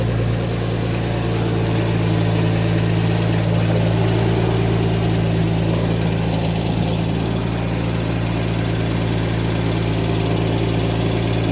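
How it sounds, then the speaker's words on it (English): A 1991 Mercedes 190E engine idles steadily and close, a constant low drone with a light mechanical ticking from rattling lifters running through it, with no talk over it. "Some lifters rattling because it's not secured in the end at all."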